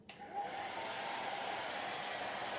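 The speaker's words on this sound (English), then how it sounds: "I am going to grab my blow dryer again." Blow dryer drying paint on a wooden sign, switching on with a brief click and then a continuous airy whir with a faint steady whine, close and unbroken, with no speech.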